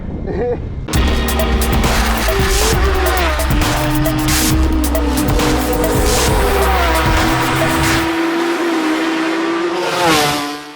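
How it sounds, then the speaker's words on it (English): A Formula 2 racing sidecar screams around a circuit, its engine loud and close with a high, sustained harmonic whine that rises and falls through gear changes, accompanied by tyre noise, continuous for about ten seconds. "bespoke Formula 2 racing machines that are built for one thing and one thing only, going fast around a circuit"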